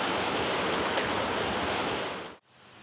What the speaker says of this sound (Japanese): 聞こえてくるのは鳥の声と 水の音だけですね